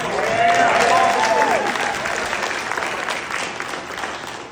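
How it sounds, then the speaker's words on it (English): A team leader summit audience claps for a trainer in a full round of applause, a loud, dense crowd wash that holds steady and slowly fades, with a brief voice near the start. "Give me a round of applause."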